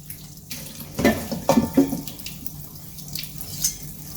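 Tap water runs into a sink while rind pieces of melon are washed by hand, with soft splashes and a few clunks over a steady, fairly quiet stream.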